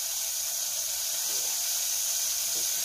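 Garlic stir-frying in a hot pan gives a steady, even sizzling hiss that carries on unbroken throughout, with no voices.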